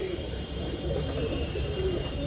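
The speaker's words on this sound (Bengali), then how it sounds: "এই দেখে নিন পায়রা উড়ছে" Pigeons coo softly and steadily at a pigeon loft, with a constant background hum running underneath.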